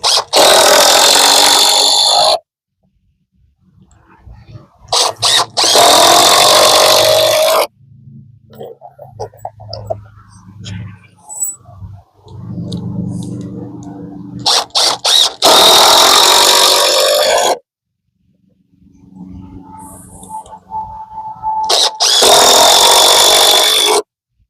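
A power drill drives screws into wooden stud framing for an 8x8 tiny-house side wall, with four short, loud whirring bursts and quieter handling noises between them.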